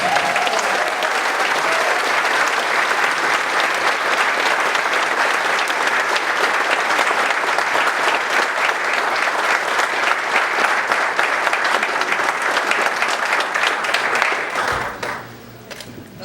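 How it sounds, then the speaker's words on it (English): An audience at a police chief swearing-in ceremony in Oxnard breaks into sustained, loud applause that continues steadily for about fifteen seconds, then quickly fades out. "Let's give him a round of applause."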